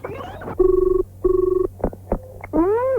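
A telephone being dialled sends a quick sequence of sharp electronic tones, two longer steady beeps followed by short chirps and a rising warble, loud and close in a quiet room.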